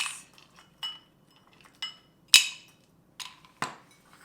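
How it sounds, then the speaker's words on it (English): Ice cubes drop into a cocktail glass in a few sharp, bright clinks, separated by short silent gaps, close and clear. "We're going to fill our glass with some ice."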